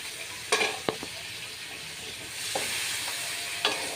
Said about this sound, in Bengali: দেখো এখন আমি পেঁয়াজ কুচি দিয়ে দিলাম।